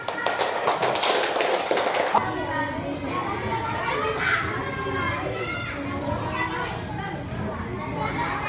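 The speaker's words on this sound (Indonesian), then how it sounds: "Tepuk tangan." A classroom of children claps in a quick burst of hand taps for about two seconds, then the room fills with overlapping kids' chatter and voices.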